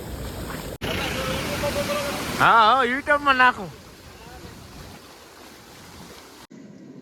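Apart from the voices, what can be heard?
flood water flowing over a village culvert bridge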